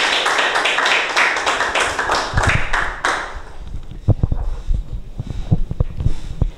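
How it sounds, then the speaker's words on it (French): An audience applauding a guest with loud, evenly spaced rhythmic claps for about three seconds, then scattered thuds and light taps. "On applaudit pour elle, s'il vous plaît."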